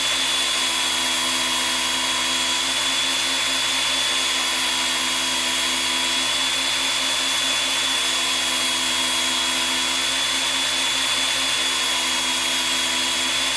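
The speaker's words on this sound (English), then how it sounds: "it will remove any metal burrs that are left on the blade as it's sharpening" A Work Sharp electric knife sharpener grinding a metal blade, a constant close motor whine with a thin high-pitched tone running steadily and unbroken throughout.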